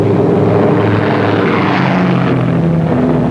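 Douglas A-20 twin-engine attack bomber with tricycle landing gear taking off, a loud, steady propeller-engine roar that holds nearly constant throughout, close and alone with no talk.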